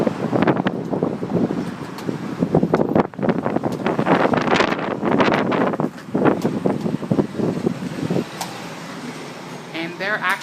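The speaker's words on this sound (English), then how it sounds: "It gets pretty windy, so you might not be able to hear me too well" Wind gusts across a Texas apartment balcony, buffeting the microphone in rough bursts beneath a person talking close by for most of the stretch.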